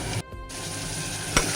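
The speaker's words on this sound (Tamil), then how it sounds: "வெங்காயம் வதங்கிட்டு" Onions sautéing in a pan for Guntur gongura mutton, a steady soft sizzle with a brief dip and a short clatter near the end.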